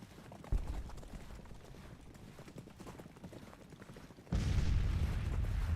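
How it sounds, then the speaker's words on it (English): Cavalry horses trot with rhythmic hoof clatter across a Civil War battlefield in a strategy game, faint and steady, with a heavy booming burst of artillery-like rumble near the end. "the cavalry seems to be moving toward my artillery"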